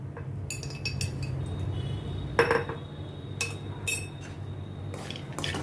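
A spoon clinks and scrapes against a metal pan while powdered sugar is mixed into roasted poha chivda, a few sharp metallic knocks scattered over a low steady hum.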